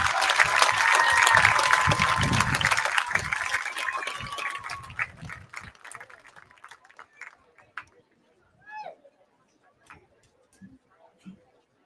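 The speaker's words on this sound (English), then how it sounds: "Everyone could give these student athletes a round of applause for all of their accomplishments." A crowd at an 8-man football all-star game applauds student athletes with loud clapping and cheers that fade out after a few seconds, leaving scattered sounds and short bursts of talk.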